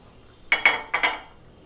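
A utensil scraping and clinking against a pan while Dijon mustard is stirred into vegetarian mushroom stroganoff, four quick close metallic strokes in a row.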